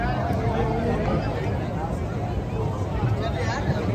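A crowd gathers on a Ganges riverbank around a Massey 241 DI tractor sunk in marshy ground, a continuous hubbub of mixed voices close by, with one voice speaking nearby over the babble.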